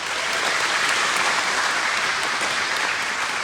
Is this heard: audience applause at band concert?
yes